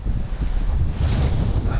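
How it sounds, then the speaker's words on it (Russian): Strong wind blowing over a wide, high river while out fishing for perch, a steady loud roar of gusts buffeting the microphone with the wash of water underneath. "Ветер поднялся"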